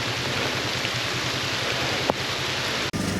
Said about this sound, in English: It started to rain, so I'm soaked.